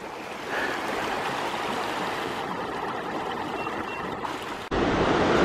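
A river rushing along the Pioneer Trail to Spaulding Lake in California, a loud, continuous roar of flowing water close by that swells suddenly louder near the end.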